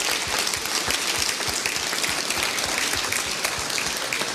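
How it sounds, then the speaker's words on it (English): Dense, steady applause from a large summit audience honouring the conveners at a UN Food Systems Summit ceremony, a continuous close wash of many hands with no talking. "please stand up and let us applaud you and what you have done"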